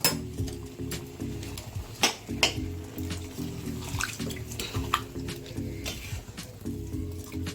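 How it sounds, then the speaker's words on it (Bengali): Water is poured into a pan of paneer ghugni, with wet splashing broken by sharp clinks and knocks of a metal utensil against the vessel, close by. "একটু জল দিই"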